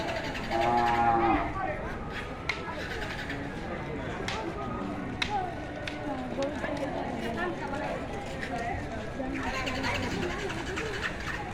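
Cattle lowing at a busy outdoor cattle and goat market before Eid al-Adha, several moos near and far amid crowd chatter and people talking throughout.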